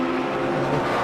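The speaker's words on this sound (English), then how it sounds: "Just listening to that McLaren come past, it's not sweet as silk as it normally is." McLaren race car at a SAGTRA circuit race sweeping past with a steady, loud engine note through the whole short moment.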